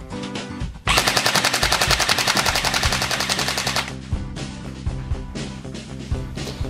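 APS ASR 400 series airsoft gun powered by an 8.4 V battery, firing a sustained full-auto burst of rapid, loud mechanical clatter that tails off into scattered clicks and handling noise.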